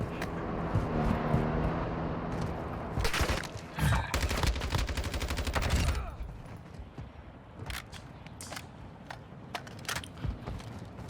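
Assault rifle gunfire in the Call of Duty DMZ video game, with rapid close bursts of automatic fire in the first half followed by scattered single shots and distant pops.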